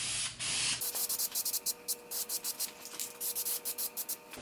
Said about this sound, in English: What I like to do is I like to spray the sides first.